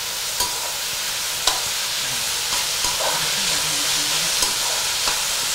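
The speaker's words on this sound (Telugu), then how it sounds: "ఇది కూడా బాగా ఫ్రై అవ్వాలి" Mirchi bajji, chilli fritters in batter, fry in hot oil. The sizzle is soft, steady and broadband, with a few sharp ticks and light stirring scrapes, and no one speaks.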